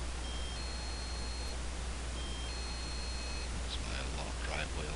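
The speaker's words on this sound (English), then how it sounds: "That's my driveway alarm going off." A driveway alarm gives faint electronic beeps in two short bursts over a steady background hiss, with a brief rustle near the end.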